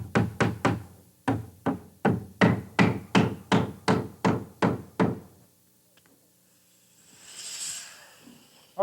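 A hammer drives nails into wooden door casing with a run of about fifteen sharp, loud knocks in quick bursts, then a quiet pause and a soft rustle.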